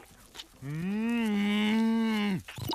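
A single long, steady cartoon cow moo, loud and close, lasting nearly two seconds before cutting off.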